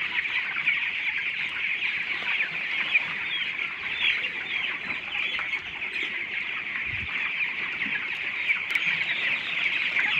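Broiler chickens about fourteen days old cluck and chatter densely in a coop, a loud continuous crowd of many birds with no talking.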